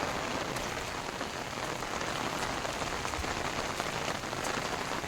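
Steady heavy rain pours down at Uparkot Fort in Junagadh, a dense, continuous hiss of drops on surfaces close by with no voices.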